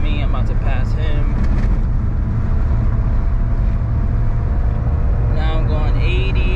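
A Suzuki Wagon R kei car engine runs hard at about 5,000 RPM at highway speed. It makes a loud, steady cabin drone mixed with road and wind roar, and faint voices come through briefly near the start and end.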